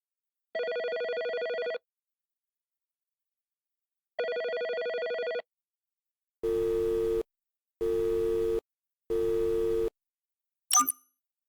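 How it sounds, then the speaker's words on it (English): A telephone rings out twice in long electronic tones, followed by three evenly spaced beeps and a short click as the call to a cell phone goes unanswered, clean and close with no voices. "Dialing Dave's cell phone"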